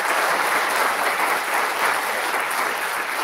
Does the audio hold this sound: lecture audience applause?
yes